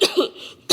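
A person with a cold gives two quick harsh coughs close to the mic, then a brief pause and another short cough burst.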